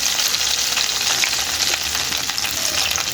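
Fish, likely prawns, frying in oil in a pan, with a dense, steady, loud sizzle and crackle heard close up and no talking.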